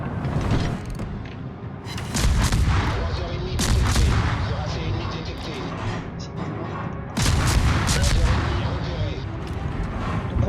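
Heavy naval cannons boom repeatedly in World of Warships, deep blasts and rolling explosions layered over a continuous loud rumble of battle.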